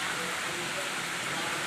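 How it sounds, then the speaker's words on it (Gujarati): Rain falls steadily on a farm field with a jujube tree and grass, a dense even hiss filling the short stretch with no breaks. "વરસાદ આવી ગયો"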